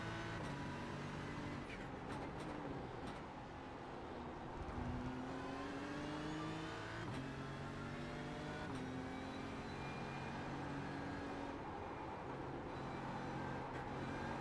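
A BMW M4 GT3 race car in iRacing at Road America accelerating under throttle, its engine note climbing through the revs with gear changes and staying loud and steady throughout, with no voices.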